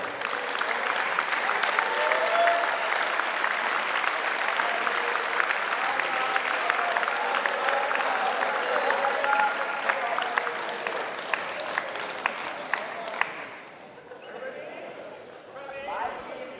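Steady audience applause at a boys soccer closing ceremony, a moderately loud wash of clapping with scattered louder claps, thinning out near the end as murmuring voices take over.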